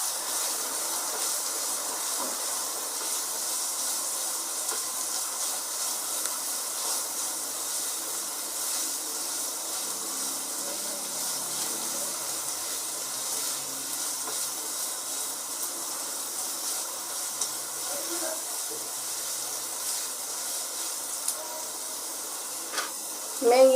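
Finely chopped onions sizzle in hot oil for Gujarati kanda poha with a steady, even frying hiss. It is close and moderately loud, with no one talking over it.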